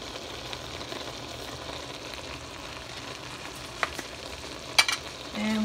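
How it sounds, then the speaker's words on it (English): Ground meat for lasagna sautéing in a pan, a soft steady sizzle with faint stirring, a few light scrapes and clinks of a utensil near the end. "And we're gonna saute the meat."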